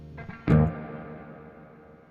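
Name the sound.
spring reverb on NUX Verb Core Deluxe pedal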